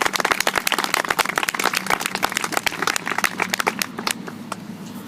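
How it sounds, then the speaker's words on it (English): An audience applauds at a Veterans Day program, a dense, steady clapping from many hands that carries on loudly and evenly, easing slightly toward the end, with no talk over it. "join me in a round of applause for these brave men and women"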